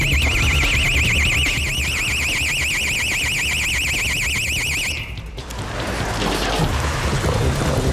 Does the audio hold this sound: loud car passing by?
no